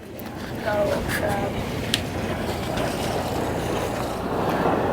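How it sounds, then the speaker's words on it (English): A tour boat motors in across the water, slowing for the wake, amid broad wind and wave noise, a steady rumble with voices talking faintly underneath. "Here comes a boat in."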